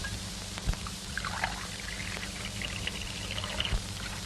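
Dirty, black, foul-smelling canal water pours and trickles in a faint, continuous wash with a few soft splashes throughout.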